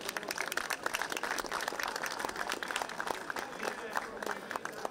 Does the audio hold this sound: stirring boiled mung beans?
no